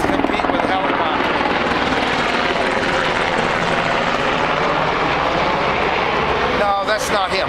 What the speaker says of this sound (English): We have to compete with helicopters.